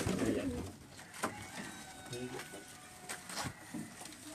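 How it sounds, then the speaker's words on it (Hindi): Soft cooing of a Sialkoti pigeon on a rooftop loft, low murmuring calls repeating under faint background noise and scattered rustles. "ये सियालकोटी कबूतर है माशाल्लाह।"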